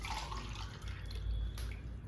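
Water poured from a glass onto rice gives a continuous close splashing, gurgling stream that lasts the whole couple of seconds with slight surges.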